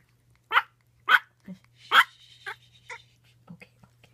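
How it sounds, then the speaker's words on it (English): A six-month-old Yorkie puppy gives a series of sharp, high yips close by, about half a dozen irregular barks with small whimpers and soft sounds between them. "And Sawyer is a 6-month-old Yorkie."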